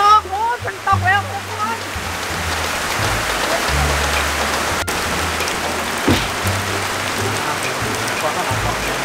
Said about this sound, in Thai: ฝนตกฝนตกโอ้ฝนตกแล้ว